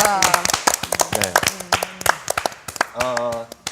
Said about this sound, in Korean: 박수 드려요